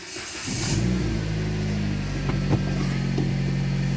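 A Dodge Caliber's engine cranks and fires up close by, then settles into a steady idle hum with a light rev midway, running alone without talk.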